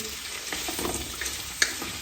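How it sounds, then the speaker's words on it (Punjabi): Vegetables frying in hot oil in a home kitchen pan, a steady hiss of sizzling with faint stirring scrapes and one sharp clink near the end, close and moderately loud with no talking. "ਤੇਲ ਆਪਣਾ ਜੀ ਹੋ ਗਿਆ ਬਿਲਕੁਲ ਗਰਮ ਤੇ ਹੁਣ ਆਪਾਂ ਨੇ ਸਾਰੀਆਂ ਚੀਜ਼ਾਂ ਇਕੱਠੀਆਂ ਸੁੱਟ ਦੇਣੀਆਂ ਨੇ"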